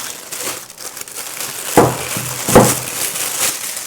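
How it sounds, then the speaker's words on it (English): Plastic wrapping crinkles as it is pulled off a new adjustable dimmable wall lamp, close and loud, with soft rustling throughout and two sharp crackling bursts partway through. "I will be installing this if I can get this plastic off of here."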